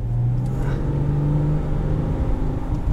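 A 2013 Subaru Tribeca 3.6R flat-six engine revs steadily at high RPM, a loud, continuous droning growl with a smooth, sustained tone throughout.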